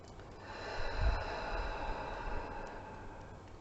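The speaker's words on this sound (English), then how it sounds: "Take a deep breath in" A slow, deep breath drawn in through the nose during a calm tapping session, soft and close, swelling to a peak and fading out, with no talking.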